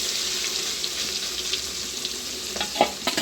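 Seer fish (neymeen) frying in hot oil, a steady broadband sizzle with faint crackles throughout and a couple of brief clinks near the end, no voices.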